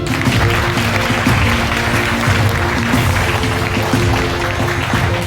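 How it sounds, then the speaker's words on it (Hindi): Schoolchildren clap together in a loud, continuous rattle of many small hands, with a faint steady hum running beneath. "इसके लिए ताली बजा लीजिए"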